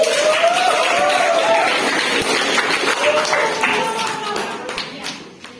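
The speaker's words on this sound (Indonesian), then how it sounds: "Beri tepuk tangan." Students clapping in a classroom physics lesson, a moderate burst of applause that stays steady and then fades toward the end, with a voice or two faintly over it.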